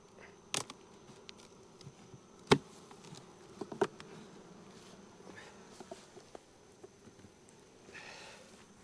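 Honeybees drone softly and continuously around an open hive during an inspection, a faint steady buzz with occasional clicks and knocks from frames being handled close by.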